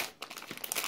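Small resealable plastic bag holding a micro USB cable, crinkled in quick faint bursts of rustling, close and brief with no talk.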